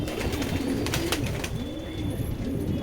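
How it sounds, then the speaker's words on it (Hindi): Pigeons coo in soft, repeated rolling calls nearby, with faint background rustling and no voices. "अभी तो वैसे काफ़ी कबूतर है, 90 के करीब कबूतर है"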